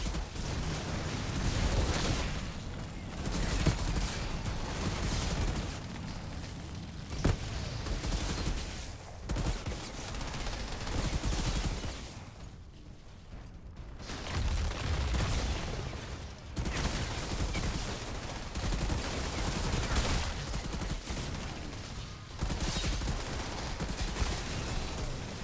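Rapid pistol gunfire from a first-person shooter match in Outriders, shots cracking in dense bursts with brief pauses, loud and close, mixed with game effects throughout.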